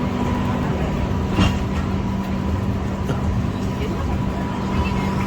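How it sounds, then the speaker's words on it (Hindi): A train hauled by a WAP-7 electric locomotive with Haldiram's vinyl wrapping passes at a monsoon-season halt, giving a steady loud rumble with faint rail clatter and a couple of sharp metallic clanks. "देखिएगा वैप 7 जो उस ट्रेन को लगा हुआ है।"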